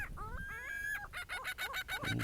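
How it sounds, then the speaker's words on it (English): Noisy birds outdoors by the beach give a run of squawking, honking calls, one drawn-out cry and then rapid repeated clucks, moderately near but at a low overall level. "Boy, these birds are noisy."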